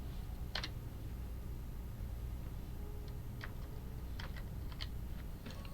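Computer keyboard shortcuts tapped during photo retouching: sparse, single and paired clicking keystrokes spread across a quiet room hum.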